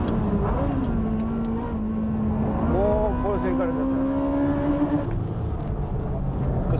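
A Nismo Nissan GT-R race car drives past on a track, its engine note rising and sweeping in a steady roar while a voice talks over it.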